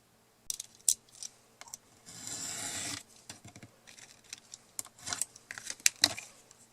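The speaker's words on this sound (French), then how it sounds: "j'ai coupé le premier côté avec ma règle et mon cutter" Paper is sliced with a craft knife drawn along a ruler while making a Christmas card: sharp clicks and scrapes, then a sustained rasping stroke of the blade lasting about a second, and a few more short taps.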